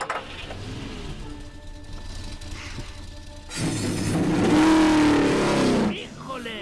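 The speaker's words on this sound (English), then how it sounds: "Start your engines!" Race car engines start up in a background hum and then burst into a loud, rising rev for a couple of seconds before dropping away, with voices over the opening.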